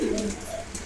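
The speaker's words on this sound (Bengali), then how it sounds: "এখানে রয়েছে রেচার কবুতর" A racer pigeon gives a brief, low coo up close, alone with no talking.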